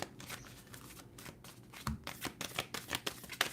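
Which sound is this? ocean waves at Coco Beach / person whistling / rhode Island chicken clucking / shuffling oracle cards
shuffling oracle cards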